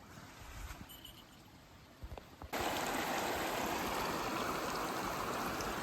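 Clear stream water flows steadily on a solo backpacking trip. A quiet outdoor stretch jumps to a loud, continuous rushing close by.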